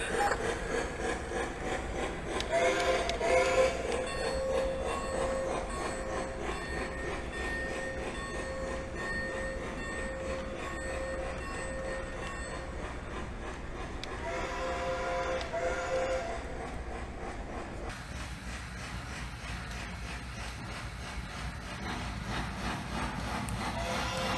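A Lionel American Flyer FlyerChief model train, a Berkshire NKP 765 steam locomotive, rumbles steadily along the track for a long stretch, with a brief horn-like tone early on and faint background noise throughout.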